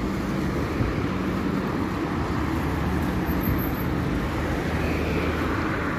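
Steady afternoon street traffic in Jeddah city, a continuous broadband roar of cars and engines with a constant low rumble, moderately loud and unbroken throughout, with no talking.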